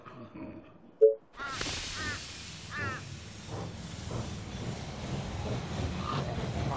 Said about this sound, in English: The train has arrived at the station.